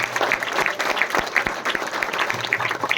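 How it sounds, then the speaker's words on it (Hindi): Seminar audience breaking into loud, sustained applause for several seconds, dense irregular clapping with no voices over it. "एक बार जोर से तालियां बजा दीजिए।"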